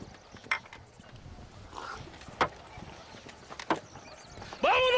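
Horse hooves clip-clop in a few spaced steps among mechanical creaks, ending with a whinny and faint voices, in the video game Red Dead Redemption.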